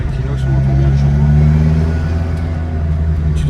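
Renault Clio 2 with a straight-through stainless steel exhaust revving close by, a steady mid-pitched engine drone rising and holding, with people talking over it.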